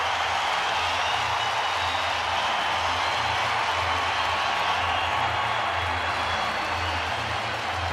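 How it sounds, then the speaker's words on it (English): A baseball stadium crowd roars steadily during an on-field fight, a dense, sustained wall of cheering and jeers with no break across the whole stretch. "And listen to this crowd for Jorge Soler."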